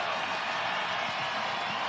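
A packed college basketball arena crowd roars on senior day during a Towson at UNC Wilmington game, a dense, sustained wall of cheering without distinct claps or voices.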